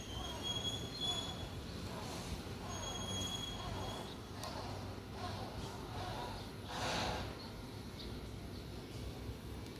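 A parcel train pulling into Photharam station in Thailand, its wheels squealing against the rails over a steady loud rumble of rolling cars, with a voice talking faintly now and then.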